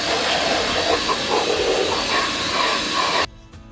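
Compressed air blasts debris out of an old Chevy 350 engine with a loud, steady hiss for about three seconds before cutting off abruptly, leaving faint room noise.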